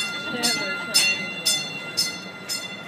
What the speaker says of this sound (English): Train's on time.